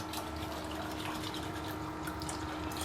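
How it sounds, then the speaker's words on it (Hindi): About half a cup of water pours in a steady, continuous gush into thick dahi (yogurt) for dahi phulki, close and fairly loud throughout, with no speech. "इसमें हम डालते हैं थोड़ा सा पानी, तकरीबन हाफ कप के करीब"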